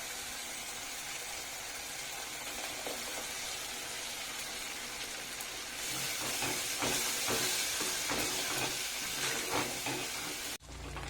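Ground spinach goes into hot spiced oil for Bengali-style palang paneer, giving a continuous hissing sizzle that grows louder and busier about halfway through before cutting off abruptly at the end.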